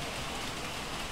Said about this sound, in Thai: วันนี้เราได้ยินแค่เสียงอะไรนะเปาะแปะเปาะแปะของ น้ำฝนที่ตกมากระทบหลังคา